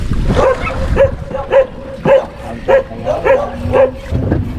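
Dogs bark in a regular series of loud, close yaps, roughly one every half second, over a murmuring background.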